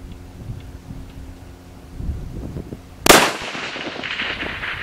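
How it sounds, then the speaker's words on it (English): A rifle shot fired at a target rings out once, sharp and loud about three seconds in, its report trailing off amid steady outdoor wind noise. "And then we'll fire again and see what we get this time."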